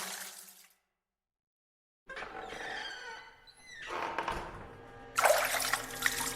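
Water splashes and sloshes in a bubble bath, broken by a silent gap, then resumes in louder close bursts of dripping and stirring.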